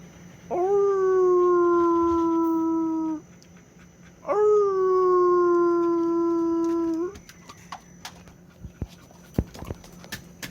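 A person imitates a wolf howl toward Jindo dogs, giving two long, sustained howls of about three seconds each, loud and close, followed by faint scattered clicks and knocks.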